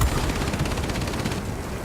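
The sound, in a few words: A-26B Invader turret gunfire in the video game World of Warplanes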